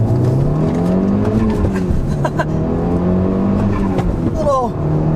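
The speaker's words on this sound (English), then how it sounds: "Little wastegate flutter, blow off sound there." A 2013 Volkswagen Golf R accelerates hard in first gear along a back road, its engine note rising steadily and loud throughout, with a brief turbo wastegate flutter and blow-off near the end.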